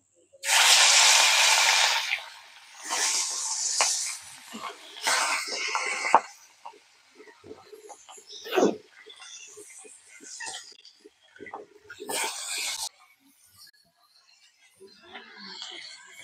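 River tengra fish hit hot oil for a spicy fish curry and set off loud bursts of sizzling hiss that weaken into fainter spitting and crackling, with a few soft kitchen clatters.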